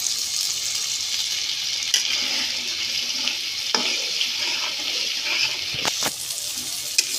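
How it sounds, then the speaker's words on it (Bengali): Spices with turmeric powder frying in a pan for a whole olive sweet-sour-spicy pickle, a continuous bright sizzle with occasional stirring clacks. "সব মশলাটাকে ভালো করে একসাথে করে কষিয়ে নিয়েছি।"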